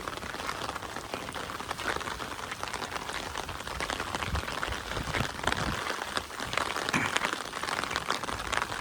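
Heavy monsoon rain pours down steadily in coastal Konkan, a dense, unbroken wash of close drops with no pause.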